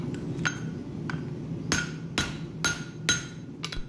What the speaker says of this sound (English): we're using hardy tools, different surfaces of the anvil, and different hammers to refine our tomahawk shape